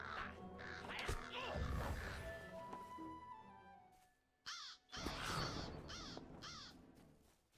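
Several crows caw in a Lord of the Rings video game, harsh repeated calls layered over dense game ambience with a busy rumble, a short pause, then more distinct caws.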